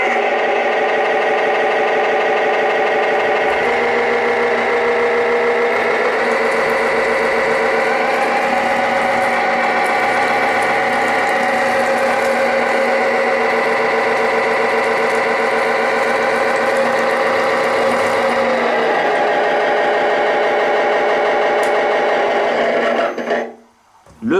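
Engine sound from the speaker of a sound module hidden under a speaker in a model SNSM rescue boat, the Roger Mehaulle, with a small bottle piece added for volume; a steady, loud, buzzy droning hum runs continuously, then cuts off at the end.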